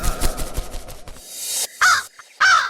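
A crow caws twice, harsh and loud, after a stretch of clattering sound and a brief hiss, close and clear in a children's animated Ramayana story.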